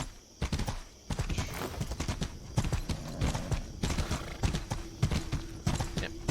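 Horse hooves clip-clop at a steady riding pace through a night-time starting town in the medieval combat game Mordhau, with a faint occasional whinny under the rhythmic steps.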